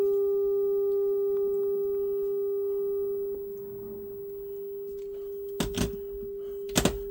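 A steady, pure test tone from a test pattern generator played through a Toshiba 15B31B portable TV speaker, loud at first and then turned down, with a few clicks near the end.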